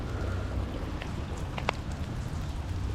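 Hail falls during an Illinois hailstorm as a continuous, dense patter on surfaces, steady and fairly faint, with a low rumble underneath and a few sharper ticks standing out.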